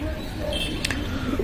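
Pigeons coo softly over steady low background rumble, with a brief brighter bird call near the middle of the short stretch.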